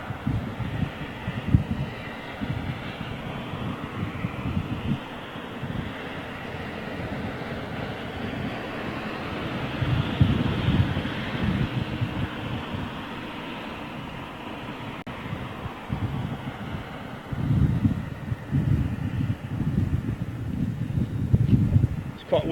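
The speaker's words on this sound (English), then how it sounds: "quite windy out there." Gusty wind at London Heathrow Airport buffets the microphone in low rumbling bursts, rising and falling throughout, with a steady broadband roar and a distant aircraft-like drone behind it.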